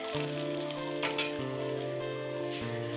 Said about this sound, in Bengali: এইখানে বেগুন ভাজা বসিয়েছি হয়েই গেছে প্রায়